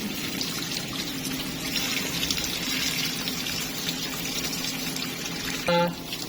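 Water running steadily from a tap while native chicken is washed, a constant close gush of splashing liquid with a brief clunk near the end.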